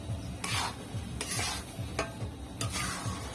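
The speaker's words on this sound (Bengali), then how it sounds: "এইভাবে নেড়ে নেবো আস্তে আস্তে করে।" Milk powder being stirred into a pumpkin laddu mixture in a pan makes a series of sharp, close scraping strokes roughly every second or so over a soft, steady frying sizzle.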